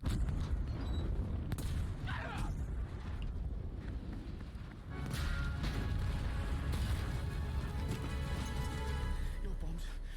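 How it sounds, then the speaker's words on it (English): Bombs going off in the video game Battlefield V, heavy rumbling booms and crackling debris under steady game noise, with voices talking over it. "that's because my bombs went off"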